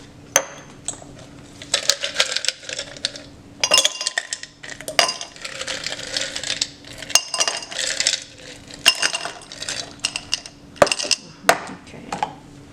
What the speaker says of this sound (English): fill a 500 ml beaker 1/3 full with ice